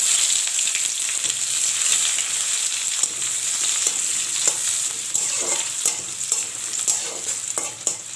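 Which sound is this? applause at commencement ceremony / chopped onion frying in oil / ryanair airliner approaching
chopped onion frying in oil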